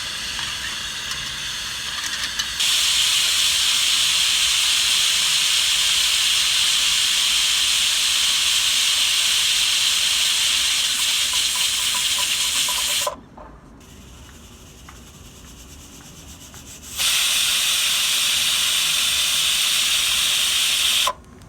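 Pressure cooker on a stove whistling and venting steam while dal and rice cook: a loud, steady high hiss that holds for several seconds, drops away briefly, then surges back at full strength.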